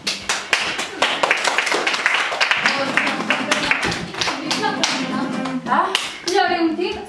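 Children clap their hands together in a classroom, a quick series of sharp, close claps with some uneven timing, mixed with the voices of kids talking and calling out.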